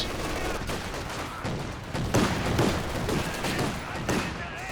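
Gunfire and explosive blasts from a WWII-style real-time strategy game, with a rifle grenade among them: dense crackling shots and thuds across the whole stretch, a sharper burst midway, under a commentator's talk.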